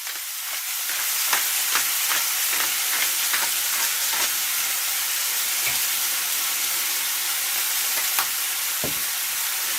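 Pork for adobo sizzles in a hot pot as it is stirred, a steady loud frying hiss broken by scattered crackles and occasional scrapes of the utensil against the pot.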